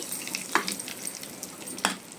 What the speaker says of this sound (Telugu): ఇప్పుడు దీంట్లో తిరగమాత వేసుకుందాం